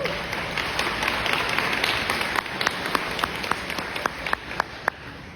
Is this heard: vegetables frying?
no